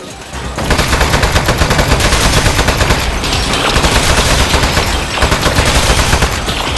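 Turrets fire in the video game Aperture Desk Job, a loud, dense, continuous rattle of rapid gunfire lasting several seconds with brief dips in intensity.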